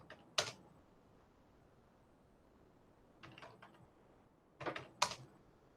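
Keyboard typing in short, faint bursts of clicks, a few isolated keystrokes early and a quick cluster near the end, over a quiet background.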